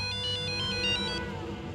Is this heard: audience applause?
no